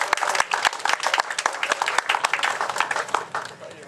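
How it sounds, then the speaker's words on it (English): An outdoor car show crowd at a cherry festival claps for the council, a few seconds of lively, uneven applause with distinct individual claps over the general patter, tapering off slightly toward the end. "Please, a round of applause for the Council."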